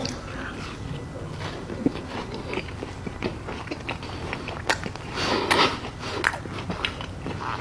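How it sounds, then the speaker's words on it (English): Close-up bites and chewing of a Reese's peanut butter Crumbl cookie, crisp crackly crunches and soft mouth sounds repeating irregularly, with no talking. "Let's eat this week's crumble cookies. First up, the Reese's peanut butter cookie."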